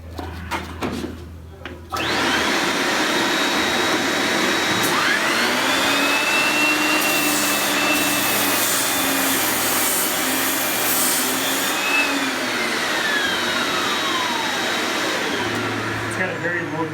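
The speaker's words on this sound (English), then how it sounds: "I'm going to fire up the machine real quick, and you'll be able to see how quiet it is." A Pallmann Gecko 2.0 wood floor edger sander fitted with a Norton Red Heat abrasive starts after a brief clunk, then runs as a steady, close whirring motor drone with a rising and falling whine for about fifteen seconds.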